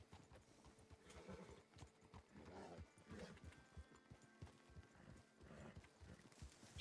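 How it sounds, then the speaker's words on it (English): Hooves clip-clop in a Western role-play game set in the RedM world, a steady rhythmic trotting near at hand with occasional snorts and low ambient game noise. "Oh, and you got a tall horse."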